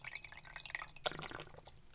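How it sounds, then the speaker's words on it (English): Water drips from a water bottle in quick, light patters over about two seconds, one sharper drop standing out near the middle, faint and close with no talking. "That was my water bottle."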